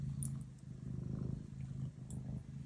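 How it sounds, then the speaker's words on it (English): Wally, a domestic cat settled on a lap, purrs steadily and close by, a continuous low rumbling rhythm with no talking over it. "I don't know if you guys can hear him purring."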